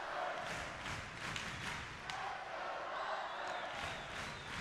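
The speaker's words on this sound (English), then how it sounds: "This crowd's getting loud here." Crowd noise at an ice hockey game builds after a goal, a steady loud roar of many voices with scattered thuds and claps throughout.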